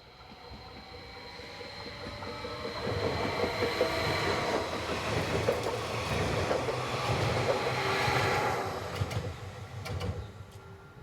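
Electric multiple unit train 523.047 pulling out of a station towards Alton, a steady rolling rumble that builds and holds, with wheel clatter and a faint squeal near the end.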